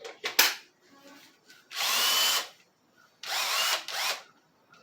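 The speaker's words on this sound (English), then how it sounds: "Let's set this in the drill." Cordless power drill whirring in short bursts while working on a guitar kit, two longer high-pitched runs and a few quick blips separated by quiet handling noises, close and moderately loud.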